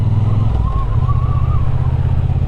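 A Triumph Bonneville T120 Black motorcycle riding through town, its engine a steady low rumble throughout, loud and close, with a slight wavering tone as the bike cruises along.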